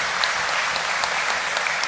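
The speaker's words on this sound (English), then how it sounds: "Give them a round of applause." A short, even burst of crowd applause at a funeral gathering attended by an opposition leader, close and full with no pauses.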